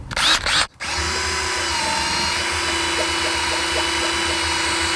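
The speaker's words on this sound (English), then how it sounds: "for that, I give you the 20-volt cordless power drill." A 20-volt cordless drill whirs steadily at high speed after a brief burst of clatter, the motor's drone continuous and close for several seconds.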